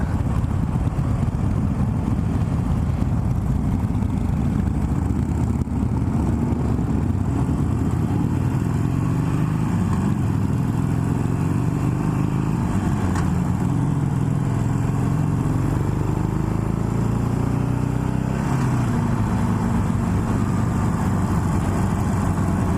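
Harley-Davidson Milwaukee 8 V-twin motorcycle being ridden on a test ride, a continuous loud low engine rumble with gentle shifts in pitch as speed changes, steady throughout with no talking.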